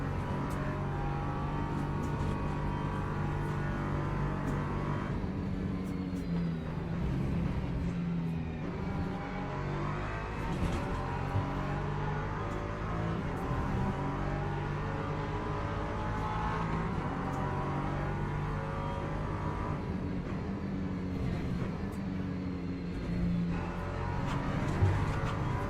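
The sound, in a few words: Porsche race car engine in racing video game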